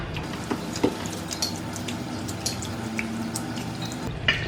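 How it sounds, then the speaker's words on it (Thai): Sea grapes seaweed are rinsed in plain water in a sink or bowl, with soft continuous splashing and scattered drips and small clinks, fairly quiet and close, no talk. "ล้างในน้ำเปล่าก่อน เพื่อลดความเค็มค่ะ"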